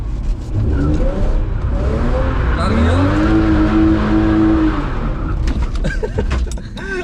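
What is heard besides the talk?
car engine revving and tires sliding while drifting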